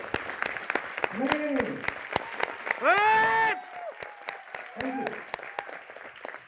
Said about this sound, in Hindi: तालियां बजानी तो अच्छे से बजाओ, वरना मत बजाओ।